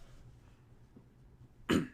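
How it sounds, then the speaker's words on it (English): A single sharp cough bursts out at the end, loud and close, after a stretch of quiet low room hum in a small showroom at the Konami E3 2010 press conference. "No coughing, and then I just cough."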